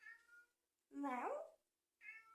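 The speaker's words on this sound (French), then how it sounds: "Mon chat vous dit bonjour également, je ne sais pas si vous l'avez entendu." A house cat sitting at a French window meows quietly, wanting to go out into pouring rain: a drawn-out rising meow between two shorter calls, faint and close, with no other sound.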